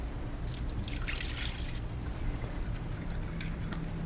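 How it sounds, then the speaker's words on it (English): Water poured off nitrocellulose membranes in a lab tray, a steady trickling and splashing with scattered drips over a constant background hiss. "Now we're going to pour off the water"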